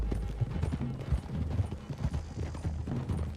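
Horses gallop in Red Dead Redemption 2, a steady, muffled clip-clop of hooves drumming close and continuous under a low rumble, with no voices.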